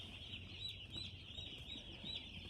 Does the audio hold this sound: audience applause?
no